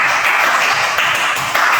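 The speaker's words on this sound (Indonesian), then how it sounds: "Oke, tepuk tangan." Students applauding in a sixth-grade primary school classroom, a dense, loud burst of many hands clapping together continuously for a short stretch.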